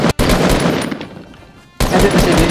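Loud video-game gunfire in a squad battle-royale match, bursts of rapid close shots that drop away briefly into a quieter, fading stretch before another heavy volley resumes; no talking over it.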